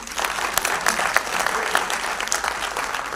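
An audience claps at a lecture on nationality and service, a dense patter of many hands at moderate volume, steady for a few seconds in an indoor hall.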